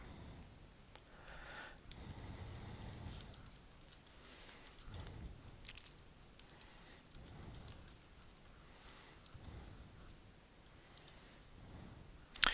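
Faint computer keyboard typing and mouse clicking at a desk, scattered light taps and clicks over a soft background hiss, with breathing audible and no talk.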